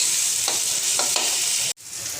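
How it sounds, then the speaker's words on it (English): Paneer butter masala with tomatoes stirred in a sizzling pan, a bright steady frying hiss close by with a few soft scraping strokes, briefly cut off near the end before the sizzle resumes. "Now we'll stir it for 2 to 3 minutes"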